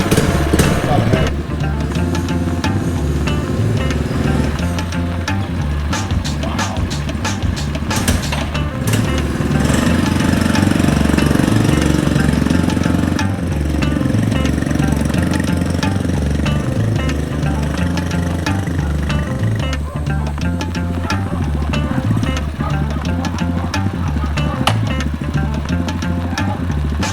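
A small FRP Moto mini bike engine running steadily, a close, continuous buzzing putter with knocking texture that rises slightly in the middle, lasting the whole stretch without a break.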